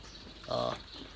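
A farm animal, likely a cow, gives a single short nasal bleat-like call over a low outdoor rumble, close and moderately loud.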